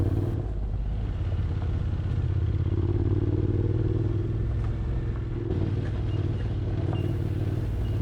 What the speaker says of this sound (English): The bike is just purring along and everything is right with the world.